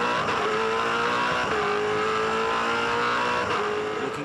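V8 Supercars race cars at the Adelaide 500 in 2006, engines roaring loud and continuous with gear shifts and passing surges, no talk.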